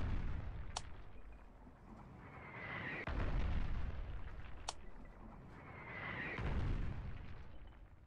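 Explosions in the war game Foxhole: a pair of heavy booming blasts with rolling rumble and sharp crackling pops, fairly loud and spaced a few seconds apart, with no talking.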